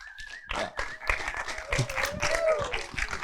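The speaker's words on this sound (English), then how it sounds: "we just give them a huge round of applause" Brief scattered clapping from an audience at a screenwriting panel at a Hawaiʻi film festival, uneven and sparse, with a tonal hum and some voices underneath.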